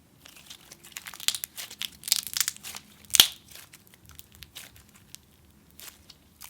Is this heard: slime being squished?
yes